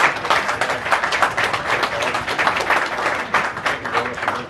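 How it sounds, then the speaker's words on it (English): An awards-night crowd applauds the winners with a continuous, dense wash of clapping that stays fairly loud and even throughout, with some indistinct voices mixed into the noise. "Again, another applause for our winners."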